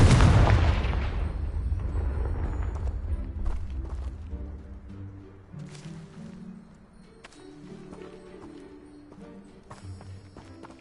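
Confringo blasting spell going off in Hogwarts Legacy, a loud booming explosion right at the start that rumbles and decays over several seconds, followed by quieter crackling debris and faint game sounds.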